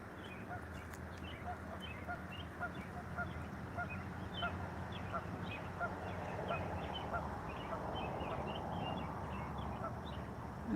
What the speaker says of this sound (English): Oh, all the ducks! Wow, there's millions of them.